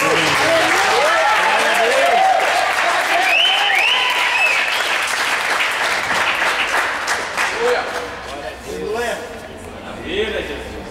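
A church congregation at a water baptism service breaks into loud applause, mixed with shouting and cheering voices over the clapping, fading gradually toward the end.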